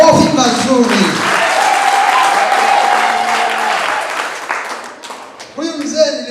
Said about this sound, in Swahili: Nasema mpigie makofi mazuri.